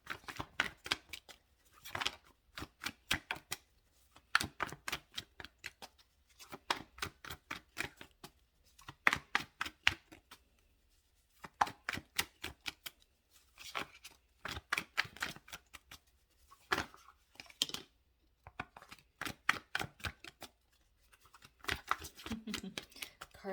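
Tarot cards shuffled rapidly in bursts of crisp riffling snaps, repeated in clustered flurries with brief pauses between, close and fairly quiet.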